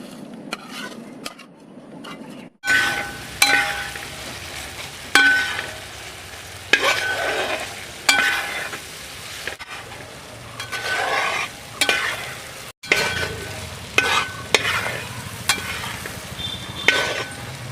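Fried fish pieces stirred into a Kerala-style pickle masala in a pan, with repeated spoon-against-pan scrapes and clanks over a low sizzle, in a rhythmic series of stirring strokes, with no speech.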